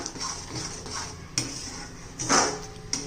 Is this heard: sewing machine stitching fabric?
no